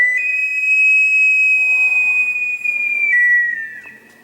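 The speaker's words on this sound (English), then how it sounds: "if you've ever heard a whistling pot" A single sustained, piercing whistle from a kettle, holding a steady pitch for about three seconds before it dips and fades out.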